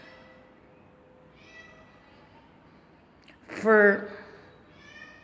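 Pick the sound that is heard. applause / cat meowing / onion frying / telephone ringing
cat meowing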